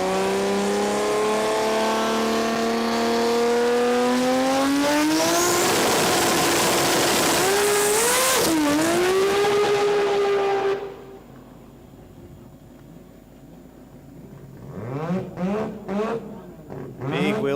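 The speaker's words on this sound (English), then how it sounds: "Big wheel spin for Anthony McTook." Drag racing car at a sports compact drag event launching with heavy wheel spin: a loud, sustained engine roar with rising pitch and tyre noise for about ten seconds, then it lifts and fades, followed by a commentator's voice.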